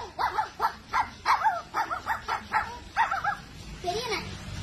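A schoolboy imitates a puppy with his voice, producing a rapid series of high, yipping barks and whimpers in a steady rhythm, close and clear, ending in a drawn-out whine.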